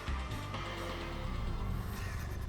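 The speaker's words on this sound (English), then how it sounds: "we will hear some rotary engine in the cutscene. Like he will rev it up." A rotary engine in a Need for Speed Carbon cutscene runs loud and continuous, a dense, rasping drone that holds steady throughout without pauses.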